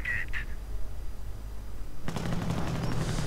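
Artillery and gunfire in a WWII strategy video game: short bursts at first, then from about two seconds a dense, continuous roar of firing and explosions over a low rumble.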